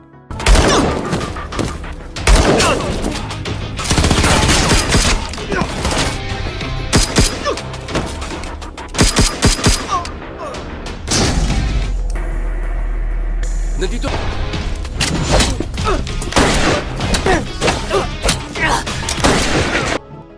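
Bursts of gunfire and explosive booms crash over a dense, loud action soundtrack, with talk mixed in and rapid shots clustered together.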